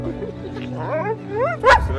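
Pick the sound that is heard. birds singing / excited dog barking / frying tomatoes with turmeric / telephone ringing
excited dog barking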